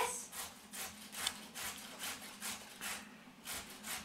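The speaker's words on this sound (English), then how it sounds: "you need to grate those 2 apples and 4 carrots" Apples and carrots rubbed against a hand grater into a bowl, a steady rhythmic scraping with about eight strokes in four seconds, close and fairly quiet.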